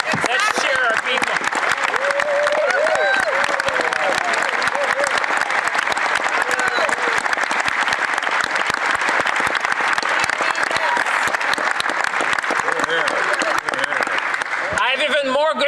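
Members of parliament applaud and cheer during a federal budget speech, a loud sustained wave of clapping with whoops and voices layered through it, lasting over fifteen seconds before tapering at the end.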